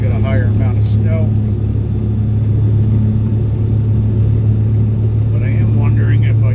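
A John Deere tractor running a snow blower at an airfield, its engine droning loud and steady close by with a deep low hum; someone talks over it briefly.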